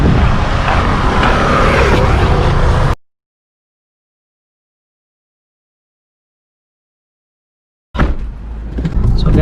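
A 2014 second-generation Mahindra XUV500 W6 manual SUV on a test drive, loud engine and road rumble that cuts to several seconds of silence before the driving noise returns.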